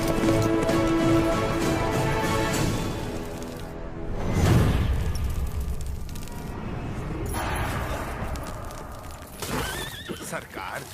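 A horse whinnies and its hooves clatter during a dramatic scene in an action film, with voices and swooshing effects mixed in. The loud neigh is followed by uneven hoof beats.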